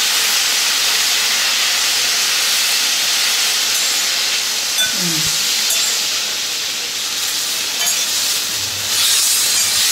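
Curry leaves and mint sautéing in a pan for a thovayal, a steady loud hiss and sizzle running unbroken throughout with no talk.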